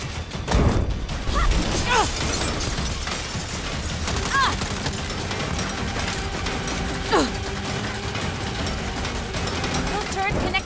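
A mounted turret in Saints Row pumps out gunfire amid a chaotic vehicle fight, with crashes, impacts and scattered shots running under the action.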